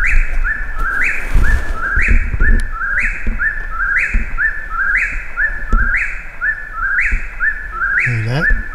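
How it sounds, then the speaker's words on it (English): A whippoorwill calls from a tree at a Virginia pines campground, repeating its rising whistled three-part song about eight times in steady rhythm, clear and fairly close over a soft outdoor background. "Hear that? That's the famous whippoorwill."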